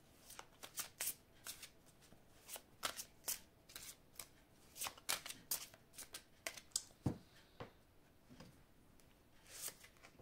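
Oracle cards from an angels-of-love deck are shuffled by hand in a series of quick, crisp riffling flutters. The bursts come close together and stay soft and near, with no talking over them.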